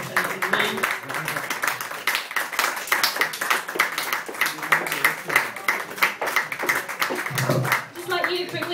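A live audience at an Edinburgh Fringe comedy show claps and cheers in a dense, continuous burst of applause, with voices mixed into the crowd noise.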